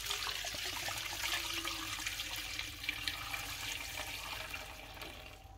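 Homemade sorrel water is strained for sorrel rice, a steady splashing, trickling rush of liquid pouring through a strainer. It runs continuously at moderate volume with small gurgles throughout.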